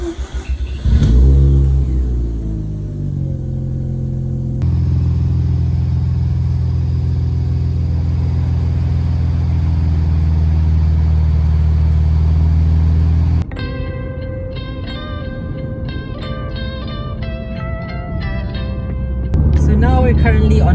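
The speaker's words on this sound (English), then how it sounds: "I'm gonna give it a cold start after 3 weeks of not driving it." A Mazda RX-8 rotary engine cold-starts after three weeks without being driven. It cranks and catches, then settles into a loud, steady idle with a revving rise partway through and faint tonal sounds later on.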